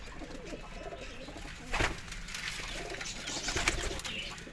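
On a rooftop, a flock of pigeons coos continuously with rolling low calls, and a couple of sharper flutters or wing claps break through the steady murmur.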